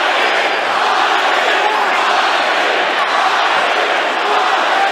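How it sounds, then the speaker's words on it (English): A capacity crowd cheers at the Usyk vs Briedis cruiserweight boxing match, a dense, loud, continuous roar filling the arena, with a commentator talking over it. "the capacity crowd here continuing to cheer"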